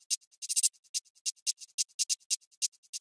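A trap hi-hat loop ticks in quick, bright, steady rhythm with rolls and softer ghost hits between accents, alone with no voices.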